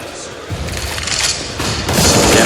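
A grenade goes off in a Counter-Strike match, a short booming blast with crackling debris, heard loud beneath an esports caster's continuous commentary.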